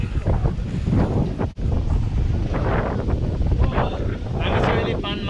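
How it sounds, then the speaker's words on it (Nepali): Strong wind at the Panmara tree house in the hills blows hard and continuously, roaring and buffeting the microphone in loud gusts for the whole stretch. "आज एकदम हावा चलिरहेछ"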